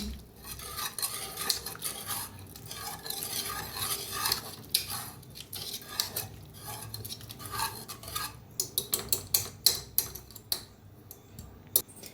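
Cooked dill greens stirred in a pot with a spoon, giving repeated scraping and clinking strokes against the metal that grow quicker and sharper toward the end, with no talking.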